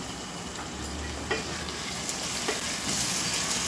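Pieces of fried chicken sizzle and crackle steadily in a hot pan, with a few soft scraping knocks as they are shifted aside, all close and continuous.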